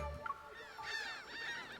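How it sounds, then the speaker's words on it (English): Seagulls squawk loudly on a beach in a video game, several harsh, wavering honking cries overlapping one after another at close range over a quiet background. "The seagulls on the beach suddenly turn their heads towards Rafayel. They stretch their necks and squawk loudly."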